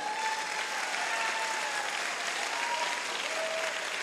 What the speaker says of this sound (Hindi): आप अपने लिए एक जोरदार ताली बजाओ पहले।